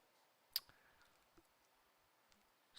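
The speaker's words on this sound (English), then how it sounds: "Just clicking on it, waiting for it." A computer mouse clicks once, sharp and close, in a quiet room, followed by a few fainter ticks spread over the next couple of seconds.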